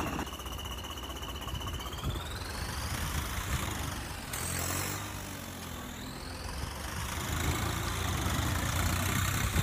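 A New Holland 3630 tractor engine runs steadily at close range, a continuous mechanical drone with a rising and falling whine as the revs shift, no voices over it.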